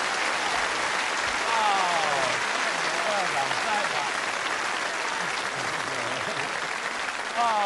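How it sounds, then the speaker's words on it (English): A studio audience at a TV game show claps steadily for a contestant, a dense, even round of applause lasting throughout, with a voice speaking over it. "Let's give a nice round of applause."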